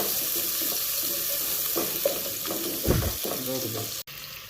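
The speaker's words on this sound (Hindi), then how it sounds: "ये शिमला हमारी थोड़ी सी फ्राई हो चुकी है। अब हम इसमें एक प्याज नॉर्मल साइज का ये ऐड करेंगे।" Capsicum and a normal-sized onion fry together in a pan, making a continuous hissing sizzle with scattered clatter and stirring knocks. The sound cuts off abruptly just before the end.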